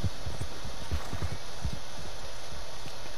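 Horse hooves in Red Dead Redemption 2 clip-clop in an irregular, steady walking rhythm over a constant background hum, with no one speaking.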